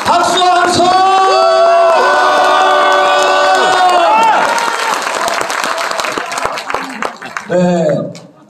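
Audience at a book launch for a National Assembly preliminary candidate at Ochang Lake Library claps and cheers loudly, with a sustained roar over music-like tones before fading, while voices call out amid the crowd.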